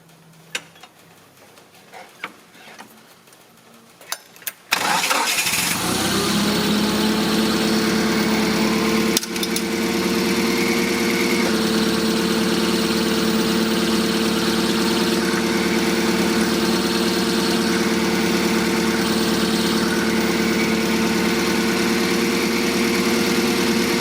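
Forklift engine with a worn clutch cranking over and catching after a few seconds of quiet, then settling into a steady, fairly loud idle with a faint ticking.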